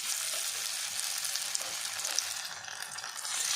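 Chicken pepper kebab pieces deep frying in hot oil, a steady dense sizzle and crackle that holds throughout with faint stirring clicks, close and even, no voices.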